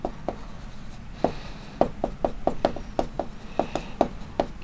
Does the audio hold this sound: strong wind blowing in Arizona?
no